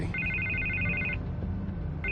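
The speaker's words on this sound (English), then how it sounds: "I can't get the phone to stop ringing." A telephone rings in Batman: The Telltale Series, a bright electronic warbling ring in two bursts separated by a short pause, moderately loud over a low background hum.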